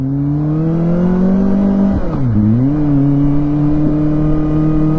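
Motorcycle engine noise on a street, loud and close, with a steady drone that dips briefly and recovers, like bikes riding past while a ridden Kawasaki Ninja ZX-25R hums underneath.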